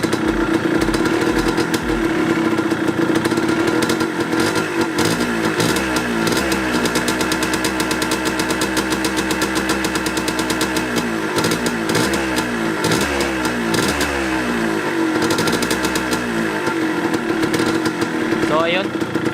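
A Yamaha DT125 motorcycle engine runs close by, idling and then revved repeatedly with rising and falling pitch in several bursts before settling back, with someone talking over it.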